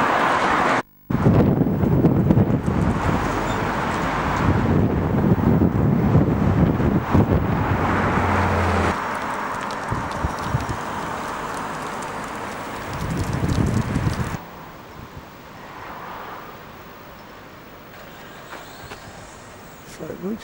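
Wind buffets the microphone in a steady low roar on a cold football match day outside the ground, with muffled voices and scattered outdoor noise underneath.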